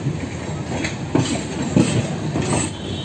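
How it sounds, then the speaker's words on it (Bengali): A Howrah–Bolpur passenger train, the Viswabharati Fast Passenger, rolls slowly across track points onto another line, giving a steady rumble with clickety-clack wheel beats near 1.2, 1.8 and 2.5 seconds, close and continuous without any talk. "লাইন কিন্তু এখনও ক্লিয়ারেন্স পায়নি দেখতে পাচ্ছ, সেই জন্য স্লোভাবে লাইনটাকে পাস করে অন্য লাইনে ঢুকছে"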